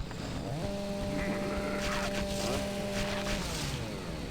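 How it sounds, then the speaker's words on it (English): A chainsaw fight in the game Doom 3: BFG Edition, with a steady motor drone holding an even pitch for several seconds, then revving higher and easing down amid gritty game noise. "Oh, let's have a chainsaw fight."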